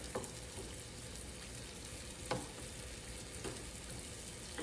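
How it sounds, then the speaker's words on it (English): Celery, onion and carrots cooking in a pot, a faint steady sizzle with a few light stirring scrapes spaced apart, quiet and without talk. "We're going to cook the celery, the onion, and the carrots until tender."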